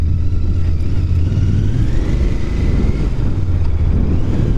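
A 2025 Royal Enfield Scrambler Bear 650 motorcycle being ridden in cold UK weather, its engine giving a steady loud low drone mixed with heavy wind rush on the microphone, with no talking.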